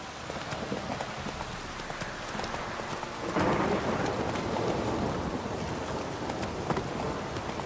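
Rain and thunder in the video game The Witcher 3: steady rain hiss with a deep rumble swelling partway through, alongside rhythmic horse hoof clip-clops, moderately loud and without talk.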